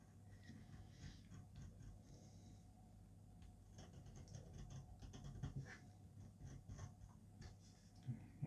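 A knife slicing through very thick leather for a made-to-measure belt, quiet repeated scraping and crackling strokes over several seconds, close up and faint.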